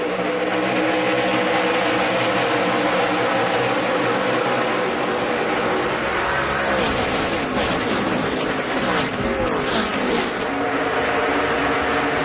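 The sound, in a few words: NASCAR stock cars racing at Chicagoland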